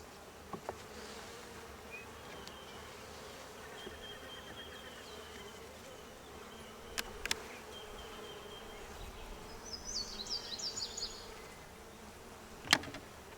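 Faint, continuous buzzing of honey bees around a hive, with a few sharp clicks and brief higher chirps now and then.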